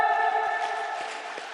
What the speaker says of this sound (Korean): 이럴 때 우리 하나님께 영광의 박수 한번 드립시다